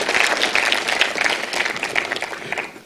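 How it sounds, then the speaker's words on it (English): Audience applause at a pitch event, a dense, loud burst of clapping from many hands that holds steady and then tapers slightly at the end. "can you please give him a round of applause for the amazing efforts that he puts in"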